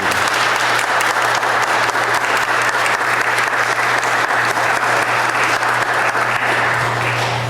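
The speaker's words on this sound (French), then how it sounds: "on peut les applaudir" At an Easter vigil, a church congregation gives sustained, even applause to the coordinators, a dense continuous clatter of many hands filling the hall alongside a low steady hum.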